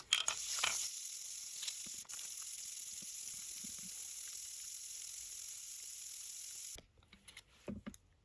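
Continuous close hiss of a plastic Brickarms plate being wet sanded in circular motions with a little water, steady and even for several seconds before stopping, followed by a few soft handling knocks.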